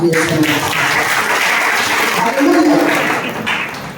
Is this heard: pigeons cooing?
no